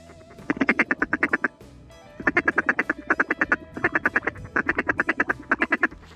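Ducks, three drakes and a hen, quack in two loud, rapid bursts of repeated calls over a wheat field in western Manitoba, a brief pause between them, close by and with no talking.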